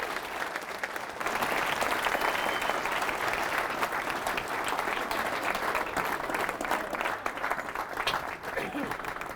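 A large audience claps loudly and continuously to welcome two guests onto a stage, dense sustained applause filling the room.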